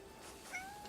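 In a video game, a single short, faint cat meow sounds over a quiet background, brief and thin.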